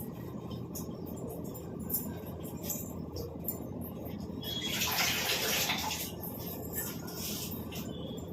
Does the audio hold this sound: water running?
yes